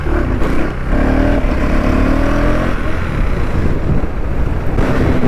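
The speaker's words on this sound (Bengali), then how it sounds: "আমার বাইকে একটাই প্রবলেম হচ্ছে শুধু মিসিং প্রবলেম হচ্ছে" A motorcycle engine misfiring while being ridden on a busy road, struggling to lift into a wheelie, runs as a loud, continuous, slightly uneven drone buried in heavy wind rush throughout.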